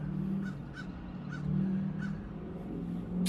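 A crow calling outdoors on a windy day, several harsh caws spaced about a third of a second apart over steady low wind rumble.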